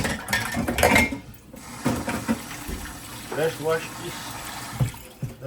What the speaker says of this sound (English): wash these things up so I can throw it in my pot